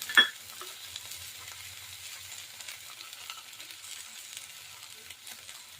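Seeds crackle and sizzle in hot oil in a pan while corn chivda is being made, a soft, steady frying hiss with a brief sharper pop at the start and no talking.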